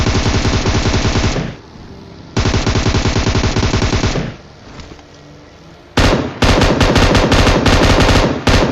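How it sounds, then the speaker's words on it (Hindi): Machine gun fire from an M249 in a shooting video game: loud, close sustained automatic bursts in three long strings separated by short pauses. "अब हमको आगे से कुछ फायरिंग की आवाज़ आ रही है"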